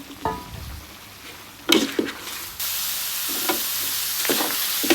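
Pork is tossed into a pan with roasted chili paste for a Thai dry curry, with a few spatula knocks first and then a sudden loud, steady sizzle that keeps going with scraping stirs.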